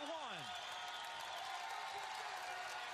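A St. Bonaventure basketball arena crowd cheering and applauding in a steady, distant roar after the home team takes the lead against Dayton, with a commentator talking over it.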